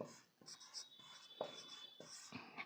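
Writing on a board during a lecture, short quiet scratchy strokes in an irregular rhythm, close and faint, with no clear speech.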